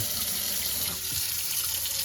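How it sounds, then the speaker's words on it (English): Very hot water runs from a kitchen tap into a Le Creuset Dutch oven, a loud, close, continuous gush with a brief shift in tone midway and no voices. "I'm going to get some really hot water going here"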